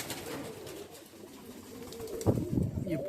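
Pigeons coo steadily in a loft of Vidarbha-line breeding birds, soft throaty calls rising louder near the end, with a few rustles and faint background noise.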